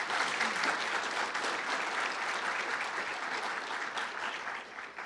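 Audience applause at a formal debate on a colorblind society, welcoming the two speakers: dense, steady clapping from a sizable room, sustained for several seconds and tapering slightly at the end, with no voices.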